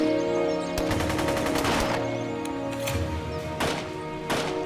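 Gunfire erupts in an ambush scene: rapid automatic bursts and scattered single shots crack loudly and close, in dense, uneven volleys with brief gaps.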